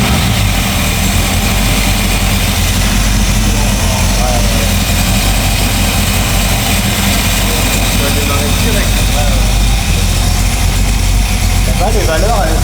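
A 1962 Corvette C1 fitted with Ridetech and Holley parts runs at a loud, steady idle, its low engine rumble constant throughout, with voices talking over it.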